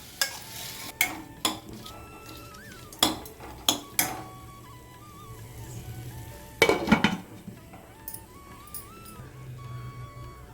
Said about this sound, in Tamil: இடையில இடையில திறந்து வதக்கி விடுங்க நல்லா கலந்து விட்டு